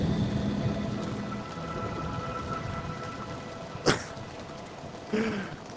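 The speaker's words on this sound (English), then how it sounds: "Look at the rain!" Rain falling in The 7th Guest VR game on Meta Quest, a steady hiss of downpour with a couple of sudden sharp bursts, close and continuous.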